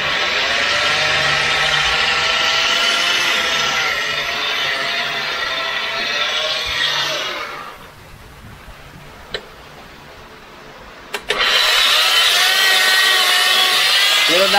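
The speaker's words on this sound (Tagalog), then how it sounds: "Iba na yung tunog ng grinder natin." An angle grinder with an adjustable speed setting whines loudly and steadily up close, drops to near quiet for a few seconds with a couple of sharp clicks, then spins back up at full volume.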